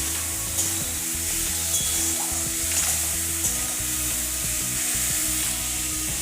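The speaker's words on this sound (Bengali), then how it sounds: "আমি পটলগুলো ওতে দিয়ে দিলাম এবং পটলের সাথে এই মশলাটা ভালোভাবে কষিয়ে নিচ্ছি" Pointed gourd pieces frying with spice paste in a pan, giving a steady close sizzle with stirring scrapes and occasional clinks throughout.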